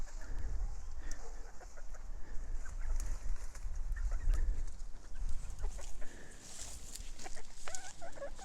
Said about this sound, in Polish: A koguty kogutują, już o nich zapomniałem nawet.